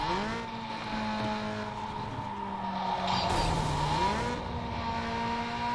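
In Need for Speed Underground 2, a race car with an upgraded engine and transmission howls steadily through the gears, its pitch dipping and climbing through a shift, with a brief tire squeal midway, loud and without talking.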